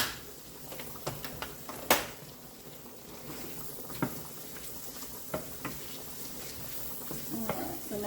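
Garlic and onions frying in a pan, soft steady sizzle with scattered sharp pops and utensil clicks, fairly faint and close, with a voice faintly present.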